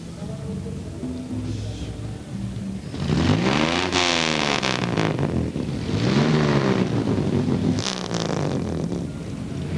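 Old classic cars of the Oldies Car Club drive past in a street parade, engines rumbling and revving up close in two swelling passes amid crowd noise and wind on the microphone.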